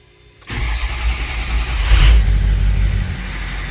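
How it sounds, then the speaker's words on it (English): A 6.0 Powerstroke diesel pickup engine cranks and fires after brief silence, then settles into a loud, close, steady clattering idle with a deep rumble, no voices over it. "Oh, it starts so much better now."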